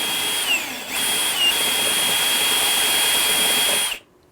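A power drill with a half-inch bit whines steadily while boring a hole during a light install on a 2018-or-later Can-Am Spyder F3 Limited, a high-pitched tone dipping briefly near the start before cutting off abruptly.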